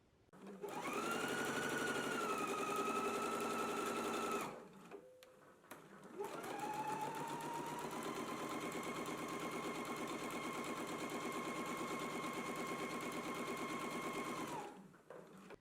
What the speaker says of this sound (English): stitching at a basting stitch 5/8 inch along the sides and lower edge